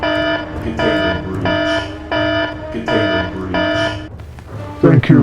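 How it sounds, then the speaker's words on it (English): A loud electronic alarm blares in repeated pulsing bursts, about five evenly spaced tones, with a brief voice near the end. "now the alarm's going off"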